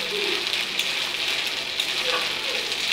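Chopped tomato fries in a hot pan, giving a steady, close hiss and sizzle throughout, with faint scraping from stirring.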